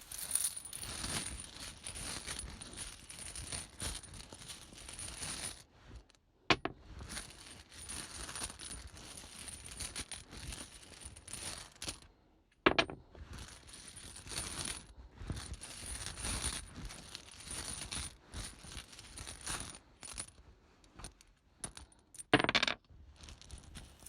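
Tarot tiles clatter and rattle against one another as they are shuffled by hand, a busy, close clicking that runs almost continuously, broken by a few brief pauses and sharper knocks.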